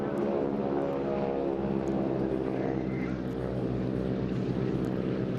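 Stearman biplanes in aerobatic flight at the Eastbourne airshow 2022, a continuous loud radial-engine propeller drone that swells and shifts in pitch as the aircraft pass.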